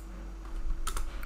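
Code typed on a computer keyboard, with a brief burst of a few quick, close key clicks over a steady low hum.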